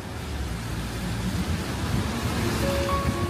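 Light drizzle falls on a street in Paris, a steady, even hiss of rain with a faint low city rumble underneath and no voices.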